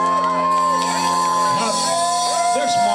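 An outdoor Oktoberfest crowd cheering and whooping, with loud shouts and yells rising over a steady bed of music with sustained tones, and talk mixed in throughout.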